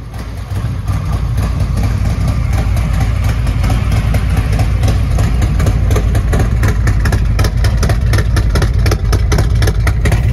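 A 2023 Harley-Davidson Street Glide 114 bagger fitted with a Zippers 468 cam idles loudly and close by, its engine giving a steady, lumpy, rapidly pulsing V-twin rumble with no talking.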